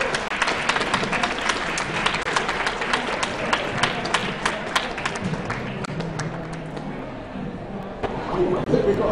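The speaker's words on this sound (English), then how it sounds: "So, again, one more time, Professor Francione, big round of applause." Audience applause at the close of a talk at a vegan festival, a dense burst of clapping that fills the room and carries on steadily before tapering near the end.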